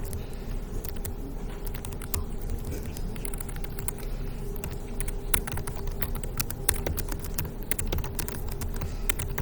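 Steady, rapid keystrokes on a computer keyboard at a command-line terminal, a dense close-up clatter of clicks running continuously with no talking.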